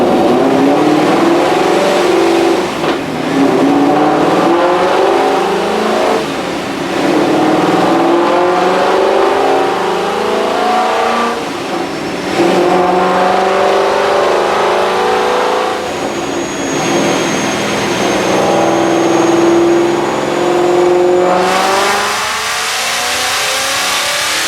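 A 2015 Ford Mustang GT fitted with a Procharger P1x supercharger roars on a dyno, loud and close, its engine note climbing through repeated revving pulls with a rising supercharger whine.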